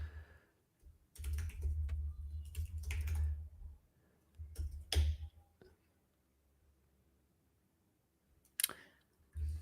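Typing on a computer keyboard during a software development session, several bursts of quick clicky keystrokes separated by pauses, close and fairly crisp, with soft talking in the background.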